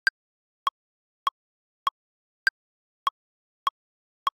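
A drum-machine beat at 100 BPM: eight sharp, isolated clicks spaced evenly with silence between them, an accented higher tick landing on the first and fifth, dry and unaccompanied.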